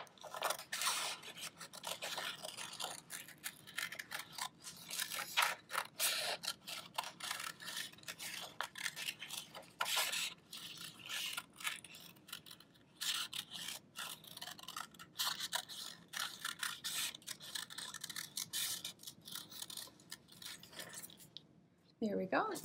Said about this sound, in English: Now we're gonna go ahead and cut that out.